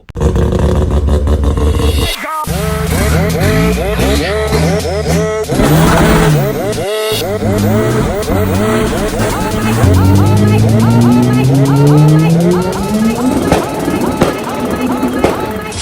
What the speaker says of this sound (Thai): รถดีเซลของมันต้องมีนะครับ อันนี้อยู่ในปาเจโร่